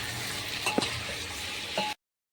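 Arbi (taro) pieces fry in a pan. A faint, steady sizzle runs under a few soft spatula scrapes, and the sound cuts off abruptly after about two seconds.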